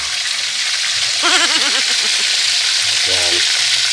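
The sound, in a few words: chicken with salt frying in a pan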